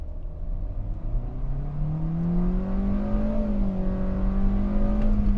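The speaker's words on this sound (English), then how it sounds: "Immediately you will hear more of the engine revving sound because it just holds onto that gear for a longer time." A 2023 Hyundai Stargazer engine revs steadily higher while accelerating in a held low gear, a rising whine heard from inside the cabin with no talk.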